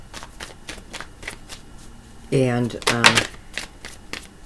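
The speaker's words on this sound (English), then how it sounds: "every time I shuffle your cards" Tarot cards riffled and shuffled during a reading, a run of quick papery flicks and taps with a brief spoken word in the middle.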